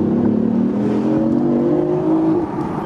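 A 2015 BMW i8 hybrid sports car accelerates with its electric motor and gasoline engine working together, a loud steady engine drone rising smoothly in pitch over nearly three seconds before easing off near the end.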